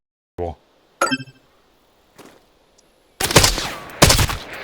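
Several sharp gunshots in the video game Arena Breakout: Infinite crack out at intervals, ending in a couple of louder, noisier bursts.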